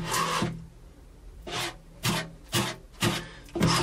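Five-minute epoxy is stirred on a spare scrap of wood, giving a series of short, distinct rubbing and scraping strokes separated by brief pauses, close and fairly loud.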